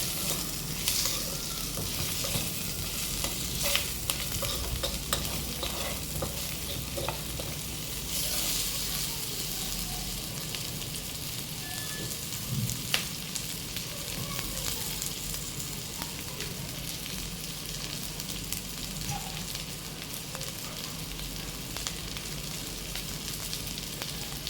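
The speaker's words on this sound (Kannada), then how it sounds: "ಟೊಮ್ಯಾಟೋನು ಕೂಡ ನಾನು ಚೆನ್ನಾಗಿ ಫ್ರೈ ಮಾಡ್ಕೊತಾ ಇದ್ದೀನಿ" Tomato frying in a pan for okra sambar, a continuous crackling sizzle with occasional stirring scrapes, steady and close throughout.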